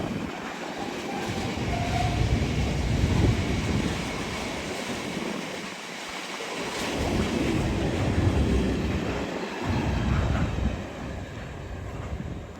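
A train passes through platform 2 at Hitchin station on the East Coast Main Line, a loud, steady rumble with rolling surges and rail clatter sustained throughout, with no voices.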